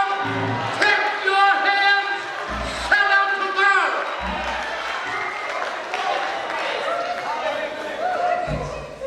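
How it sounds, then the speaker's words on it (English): Church congregation at Sunday worship clapping and shouting, a loud crowd roar with rhythmic thumps and cheering carrying on throughout, while a leader's voice calls out over it. "clap your hands, shout up to God"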